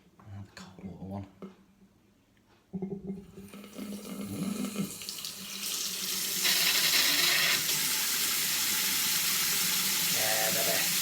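A Franke Ascona kitchen tap turned on at the cold water feed after a ceramic cartridge repair, sputtering at first, then a steady loud rush of running water that builds and holds close by.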